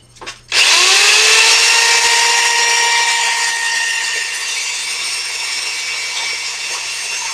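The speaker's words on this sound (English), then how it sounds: "so I can just use the holes that I already drilled as pilots to drill into the larger piece" A power drill starts abruptly and grinds continuously into metal, enlarging through pilot holes, loud and close, its pitch settling slightly lower after a few seconds.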